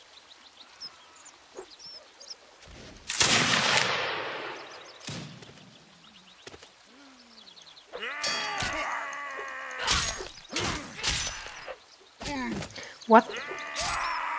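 A single loud musket shot cracks out and decays in a Napoleonic Wars mod of Mount&Blade Warband, followed by a short exclamation and bursts of voices and battle noise.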